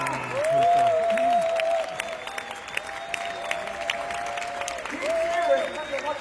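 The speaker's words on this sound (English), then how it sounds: "Let's cheer for you." Large arena crowd at a corporate main event cheering and applauding, a continuous wash of clapping with a loud amplified voice speaking over it at times.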